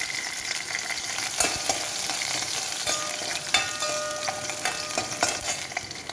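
Shallots, ginger and garlic fry in a pan, a steady close sizzle broken by clinks and scrapes of stirring.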